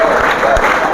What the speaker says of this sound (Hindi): प्रोफेसर नरेंद्र परमार का जोरदार तालियों से स्वागत